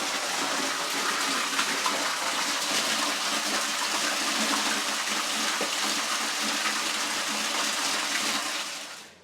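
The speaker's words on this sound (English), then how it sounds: "I'm just draining the pipe and trying to get some of the crap out" Water gushes steadily as it drains out of the pipe of a small 1.5 kW hydroelectric turbine, a loud continuous rushing hiss that holds level for the whole stretch and then tapers off at the end.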